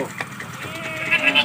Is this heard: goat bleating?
yes